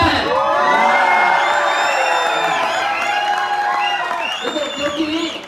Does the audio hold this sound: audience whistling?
yes